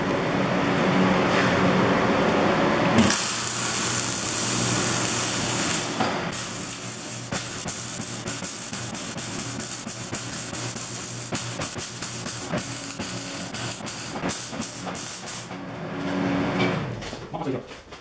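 A MIG welder builds up metal on a lathe cutting tool. It gives a loud, steady crackling hiss that runs for about twelve seconds without a break, with a softer workshop background before and after.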